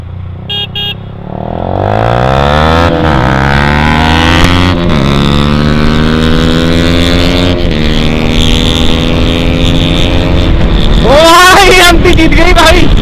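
A Yamaha MT15 and a KTM Duke 200 accelerate hard side by side on a highway, their loud engines rising in pitch through repeated gear shifts, close and continuous, with a sharp burst of revving near the end.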